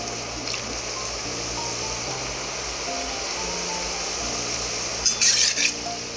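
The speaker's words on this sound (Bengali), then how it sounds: "এবার বাকিগুলো এই তেলের মধ্যে আমি ভেজে দেবো অল্প অল্প করে দিয়ে দিয়ে।" Nimki fry in hot oil with a steady bubbling sizzle as a spatula stirs and scrapes the pan, a brief metallic clink near the end.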